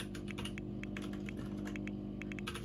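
A computer keyboard is typed on to enter a cheat code in a Sims 4 game, producing a run of quick, irregular clicky keystrokes close by, with brief pauses between bursts and no speech.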